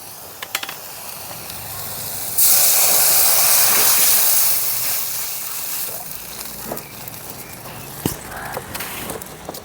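Water poured into a hot tomato and spice mixture for a Bengali fish curry bursts into a loud hissing sizzle that fades to a softer simmer, with a few clinks from a utensil.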